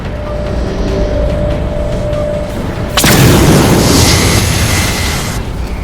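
A heavy explosion strikes a Mammoth vehicle in the Halo video game, a sudden loud boom about halfway through that leaves a broad roaring rumble and crackle over a steady background of game noise.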